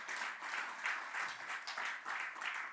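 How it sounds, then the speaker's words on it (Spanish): Church congregation clapping for the Lord during a sermon, a steady rhythmic patter of hands at moderate distance with no talk over it. "Un aplauso al Señor."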